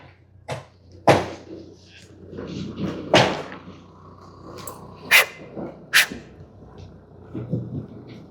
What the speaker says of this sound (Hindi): छोटे छोटे कुत्ते बिल्लियाँ हैं